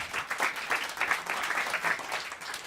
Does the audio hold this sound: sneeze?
no